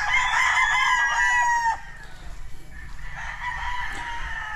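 Gamefowl stags of the Ewin's White and Black Kelso lines crow loudly and close by, one long strained crow followed by fainter overlapping crows and clucks across a farm yard.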